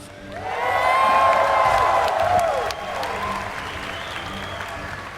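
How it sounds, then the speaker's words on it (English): A large crowd at a StarCraft 2 grand finals esports event applauds loudly with cheers and whoops, swelling quickly, then easing to steady clapping. "make some noise for StarTale Life"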